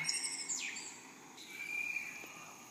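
Birds sing in an outdoor nature setting, a few thin, high chirps and whistled calls sliding in pitch over a faint, quiet background.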